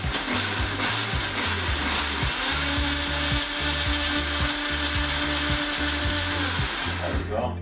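Blender whirring loudly and steadily as it purées Mexican chili sauce, with a rhythmic pulsing churn that cuts off near the end.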